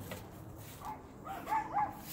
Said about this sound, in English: Oh, my dog's going psycho.